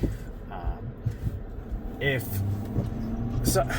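A Ford F250 Super Duty Tremor pickup tows a camper in low gear onto raw mountain land, its engine a steady low rumble close by with occasional clunks and a rising whine, under a person talking.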